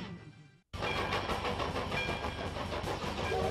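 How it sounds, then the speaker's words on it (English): A 1910 vintage steam engine train in Ely, Nevada, rumbles past loud and steady after a brief cut, with dense rolling rail noise and a rhythmic clatter of cars. "The Ghost Train, a 1910 vintage steam engine that still makes regular trips throughout."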